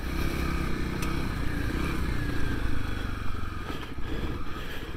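Kawasaki KLX300S dirt bike, a 2021 model, riding in second gear at around seven miles per hour; a steady, fairly loud low engine drone runs throughout with wind and road rumble, no talking.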